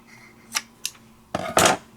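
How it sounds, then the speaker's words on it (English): Scissors snip through yarn beside a knitting machine, a few short, sharp cuts in close succession, close and fairly quiet. "I'm going to cut off my yarn."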